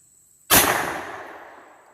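A single sharp gunshot from a Glock P80 9mm pistol with a 4.5 inch barrel firing 90gr rounds, a sudden loud crack with a long decaying tail, alone with no talk.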